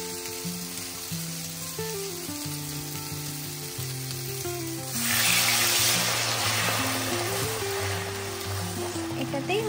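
Tomato and egg fry in a pan seasoned with salt, turmeric and coriander powder, a steady close sizzle that swells louder about halfway through, with sustained musical tones underneath.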